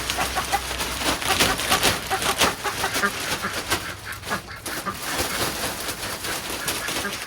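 Several chickens cluck and squawk busily and close by, a dense run of overlapping calls and agitated clucks over an indoor or yard background.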